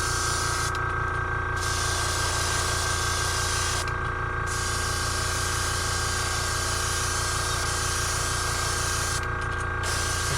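A brand new airbrush sprays paint onto a brown trout parr lure in a steady hiss, with a rhythmic compressor pulse running underneath and brief pauses where the spray cuts in and out.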